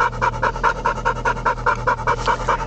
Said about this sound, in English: This is my new dog.